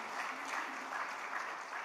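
A church congregation applauding together during a Sunday worship service, a brief burst of steady, even clapping from many hands filling the room.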